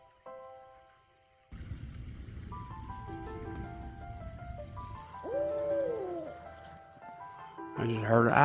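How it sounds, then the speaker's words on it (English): At night, a few soft owl hoots sound faint and distant against an outdoor background of tonal noises and other sounds, with the loudness gradually rising toward the end. "I just heard an owl in the background."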